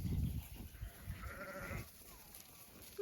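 A sheep bleats once in a drawn-out call at a moderate distance on a farm, following a short burst of scuffling and movement near the start, with quiet background afterward.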